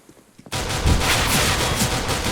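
Automatic gunfire in a Counter-Strike tournament match bursts in loudly after a quiet half-second and keeps up as a dense, rapid rattle of shots to the end.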